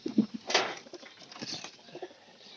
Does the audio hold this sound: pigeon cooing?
yes